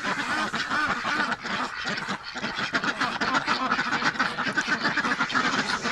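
Muscovy ducks quack and call continuously at close range, a dense overlapping chatter of several birds outdoors in cold weather.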